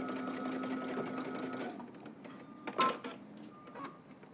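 A sewing machine stitches through two overlapped ends of elastic, joined about half an inch apart down the center, running in a steady close whir for under two seconds before stopping, followed by a few light clicks and handling noises.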